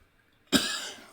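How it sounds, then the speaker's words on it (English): A single short, sharp cough from a man at a computer, close to the microphone after near silence, with a brief fading tail. "Got the coughs."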